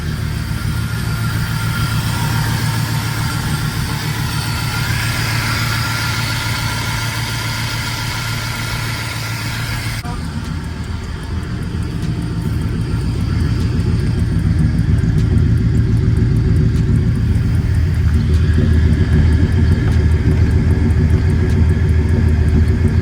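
A rebuilt car engine idles after its misfires were fixed, a steady low rumble for over twenty seconds. It shifts to a heavier, fuller throb midway and stays close and constant.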